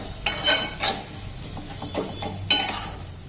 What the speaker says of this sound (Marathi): आता तो छान असा परतून घेऊया आपण अशा पद्धतीने व्यवस्थित हा खिमा आपण या कांद्यामध्ये छान परतून घेऊया